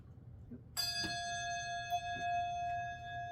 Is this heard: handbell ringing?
yes